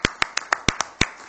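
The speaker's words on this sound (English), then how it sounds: "No one else is going to clap." A single person claps about eight sharp, separate times at a city council meeting in Rock Island, Illinois, close and distinct in a quiet room.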